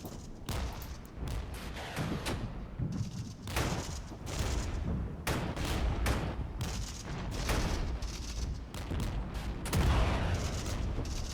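Mortar and gun fire in the Regiments war game: repeated sharp booms and crackling volleys in an irregular barrage, loud and continuous with no voices.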